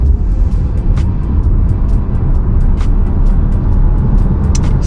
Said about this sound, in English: let's see if we can get this thing to 60 and go